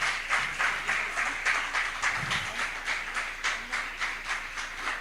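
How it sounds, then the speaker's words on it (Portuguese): A church congregation at a worship service applauds the Lord, steady rhythmic clapping carrying on evenly for several seconds at moderate distance, with no talk over it. "dê um forte aplauso ao Senhor"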